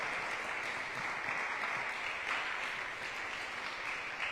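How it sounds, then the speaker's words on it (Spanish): A crowd breaks into applause at a Mother's Day tribute, with dense, even clapping heard at moderate distance without interruption. "Un aplauso a su mamá, hermano."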